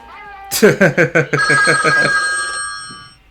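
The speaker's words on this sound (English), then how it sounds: "the world's loudest phone begins to ring, giving us the jump scare of our lives" An extremely loud telephone rings in the horror film The Exorcist, with a sharp burst of rapid bell strikes followed by a sustained ringing tone that fades out.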